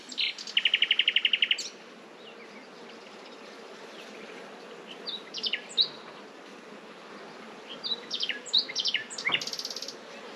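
Soft, continuous buzzing of bees around a hive, with a few brief chirps and tweets scattered over the steady hum.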